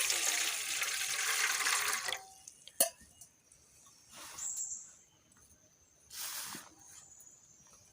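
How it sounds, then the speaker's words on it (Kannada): A short stream of water pours into a pot for about two seconds, then quiet follows with a few scattered clinks and soft splashes. "ಈಗ ಅದೇ ರೀತಿ ಒಂದು ಪಾತ್ರೆಗೆ ನೀರು ಹಾಕಿಕೊಳ್ತಿದ್ದೇನೆ"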